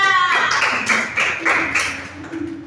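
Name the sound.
hands clapping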